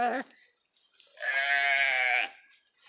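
A single long, quavering bleat from a Shetland sheep close by, lasting about a second, preceded by a brief higher call; otherwise quiet.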